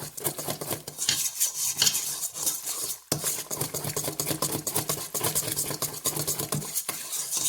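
Flour being mixed in a bowl for cinnamon roll dough from scratch, with steady stirring and scraping clatter of a utensil against the bowl, close and continuous, no talking.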